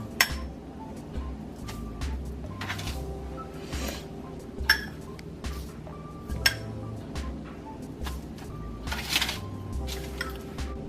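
Sugar-and-cinnamon-coated snickerdoodle dough balls are set onto a metal baking pan, producing scattered light clinks and taps at irregular intervals with soft handling rustle between them, close and fairly quiet, with no talking.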